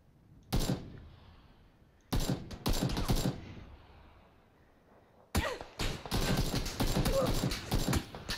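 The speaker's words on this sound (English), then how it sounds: "I keep shooting over him" An AKM in PUBG fires in three separate bursts of rapid, loud shots, each cut short by near-silent gaps.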